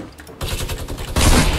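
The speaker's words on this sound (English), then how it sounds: "Who's shooting there? I'm shooting at him." A rapid fusillade of gunfire in the video game Fortnite, with shotgun and sniper rifle play, rattles in close bursts that grow louder and denser toward the end, with no talk over it.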